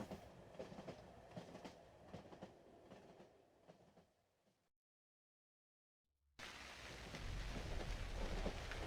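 Train ride in the horror video game Cry of Fear: a loud, steady rumble with rattling, storm-like noise, cutting to silence for nearly two seconds midway, then returning even louder and denser.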